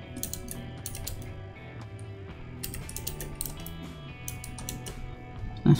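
Keys clatter on a computer keyboard during work in MATLAB, several quick bursts of clicking over a steady background hum with no talk.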